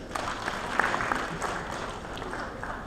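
Audience clapping at a university graduation ceremony, a soft, steady patter of many hands heard from a distance, fairly faint and continuous throughout.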